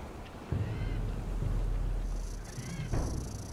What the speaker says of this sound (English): Got a stupid bird.